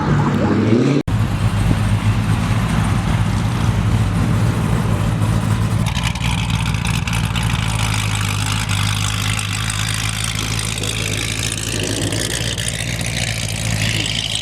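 A loud, deep, heavily modified American muscle car engine rumbles steadily nearby at a car meet, a heavy low idle with slight revving, filling the whole stretch.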